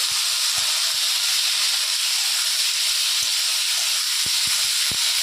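Ridge gourd pieces added to fried onions in a pan produce a loud, continuous hissing sizzle, steady throughout with occasional faint low knocks.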